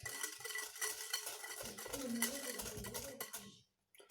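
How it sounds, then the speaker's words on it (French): A whisk stirs sugar into chocolate cake batter in a bowl, making a quick, busy scraping and clinking that runs close and steady, then stops abruptly near the end. "on va venir mélanger le sucre"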